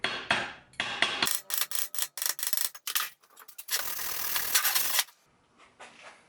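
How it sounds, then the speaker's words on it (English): Slag is knocked and scraped off a fresh weld bead in a run of short, close metallic scrapes and chips with brief gaps, moderately loud and without speech. "I'm gonna cut the slag off and see what it looks like under here."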